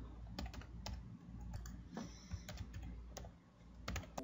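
Computer keyboard typing up close: quick irregular bursts of key clicks with brief pauses in between, heard alone with no talking.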